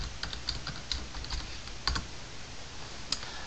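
Quick typing on a computer keyboard as a folder name is entered in Windows 7, a close run of light, irregular key clicks with a few sharper taps, no voices.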